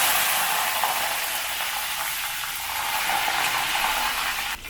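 Urad dal, chana dal, dried red chillies and curry leaves fry in hot oil with mustard seeds, giving a steady bright sizzling hiss with faint crackles throughout, close and even, with no voices.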